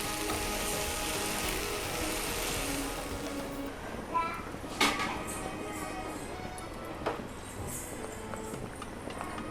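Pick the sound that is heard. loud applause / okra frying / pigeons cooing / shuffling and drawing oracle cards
okra frying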